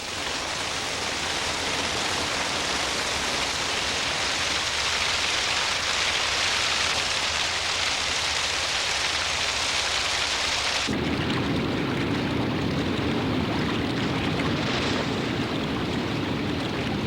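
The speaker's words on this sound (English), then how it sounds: "Storms sweep in from the Atlantic, bringing Korup some of the heaviest rainfall in the world" A heavy Atlantic rainstorm pours onto the Korup rainforest in Africa as a dense, steady hiss of rain, with a low rumble of thunder swelling in partway through and continuing beneath the downpour.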